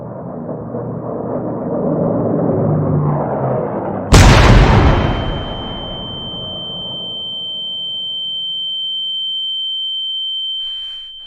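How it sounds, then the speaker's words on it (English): In the video game Martha is Dead, a bomb explodes with a sudden loud boom that cuts through a low rumbling bed, then decays slowly into a lingering ringing tone. "Sooner or later, more bombs will land here."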